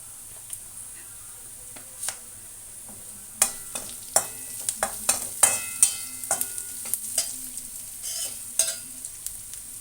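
Potato pieces fry with onions and turmeric in a pan. A quiet stretch gives way to a busy, crackling sizzle broken by frequent sharp stirring clicks and scrapes that grow louder toward the end, with no talking.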